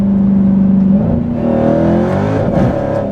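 Widebody Dodge Challenger Hellcat Redeye accelerating hard and struggling for traction, its supercharged engine roaring loud and close as revs climb and waver through wheelspin.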